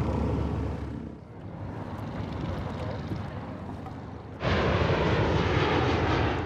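An Airbus A380 airliner takes off on the runway at the Paris Air Show at Le Bourget, a broad, rushing engine roar heard from a distance that swells suddenly louder partway through, with no talk over it.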